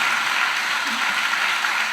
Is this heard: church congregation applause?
yes